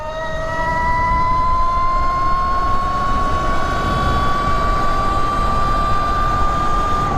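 An electric dirt bike runs at full throttle in turbo mode on a dirt track, giving a loud, steady high-pitched motor whine that rises slowly in pitch over heavy rushing wind noise.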